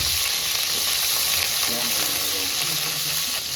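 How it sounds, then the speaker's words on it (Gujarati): Steady, loud sizzling of onions frying in a hot pan, a continuous hiss with occasional stirring scrapes, no voices. "ચાલો ભાઈ મસ્ત ડુંગળી નાખી દઈએ"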